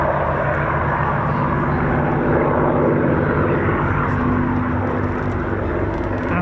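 A P-47 Thunderbolt fighter flies at an airshow, its piston engine a steady, loud droning roar throughout, with a commentator speaking over the noise.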